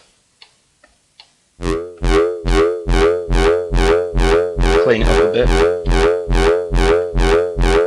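A distorted synthesizer patch pulses in a steady, loud rhythmic pattern of gritty, buzzing notes, preceded by a few soft clicks and a short spoken remark.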